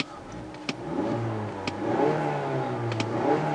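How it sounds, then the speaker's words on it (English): The 2.5-liter Skyactiv four-cylinder engine of a 2016 Mazda CX-9 idles steadily nearby, a low smooth hum with slight rises in pitch and a few faint clicks. "It makes the typical 4-cylinder noise."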